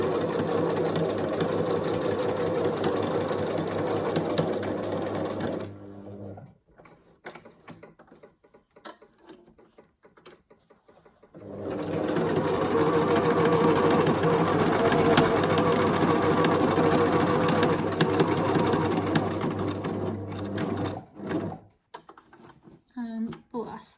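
A sewing machine stitches steadily around the edge of layered fabric for a slash-and-fray textile piece, running in two long continuous bursts separated by a pause, close and fairly loud.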